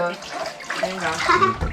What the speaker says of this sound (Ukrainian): Миємо ручки.